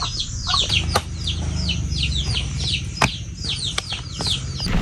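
Chickens on a rural farm in Mindoro clucking and chirping repeatedly nearby, quick overlapping calls in a busy rhythm, with a few sharp knocks and low background rumble.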